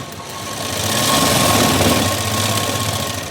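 A sewing machine runs steadily while stitching the front panel of a blouse, with a continuous close whirring hum and mechanical rattle for about three seconds, alone and without talk.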